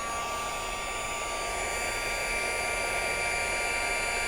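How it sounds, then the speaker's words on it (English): A heat gun blasts a steady, loud rush of hot air over gold embossing powder on a craft card, a constant broadband roar that holds even for the whole stretch with no pauses or talk. "the heat gun is actually heating that plastic up"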